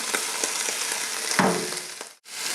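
Onions tipped into a pan of cooked beef, with a steady loud frying sizzle that swells with a brief splash of hissing as they land, then a short drop and resumed sizzling.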